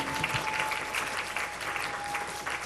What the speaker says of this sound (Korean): 우리 오실 때 큰 박수로 맞아주시기 바랍니다